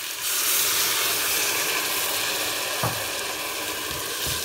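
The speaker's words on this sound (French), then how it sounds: "Et on gratte bien le fond pour récupérer nos sucres." A chicken pan for poulet basquaise sizzles and fries steadily after broth goes in to deglaze, while a utensil scrapes the pan bottom, making a loud continuous hiss with a few brief scraping knocks and no talk.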